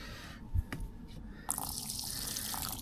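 Water trickles and drips steadily into the footwell of a Land Rover Defender, heard close up, with one heavier drop early on and a louder, fuller flow setting in halfway through.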